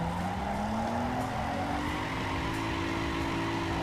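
A car engine with a V6-like tone drones steadily in a street racing game, its pitch climbing as it accelerates, loud and close, with tire skidding underneath.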